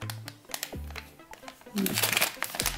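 Thick plastic packaging around a Bela minifigure crinkles and crumples in short irregular bursts, loudest toward the end, with a voice talking at points alongside.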